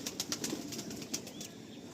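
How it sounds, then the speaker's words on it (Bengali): A young Andhra pigeon flutters and flaps its wings in short bursts while being held in a loft, quiet and close, over a faint background hiss. "সত্যি তোমার পায়রা মানে প্রচন্ড ছটফট করছে"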